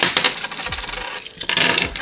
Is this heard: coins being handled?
yes